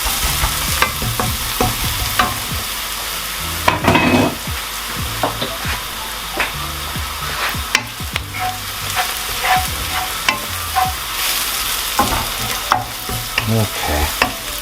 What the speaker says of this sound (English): 5 cloves of minced garlic and a teaspoon of cumin. And let that fry around until it's fragrant.